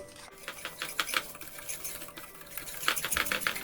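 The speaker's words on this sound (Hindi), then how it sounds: "इसमें सबसे पहले हम दही डालेंगे, पाउडर शुगर, और उसको मिक्स कर लेते हैं" Yogurt and powdered sugar are whisked together in a bowl, a spoon clicking and tapping against the sides in quick repeated bursts, close up and fairly quiet, with no talking.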